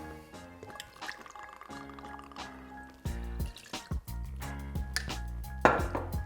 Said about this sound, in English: Add 1 ounce of coconut rum.